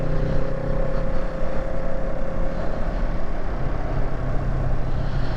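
A Kawasaki Z650 motorcycle rides down a road, its engine a steady, loud drone mixed with heavy wind rush, with no talk.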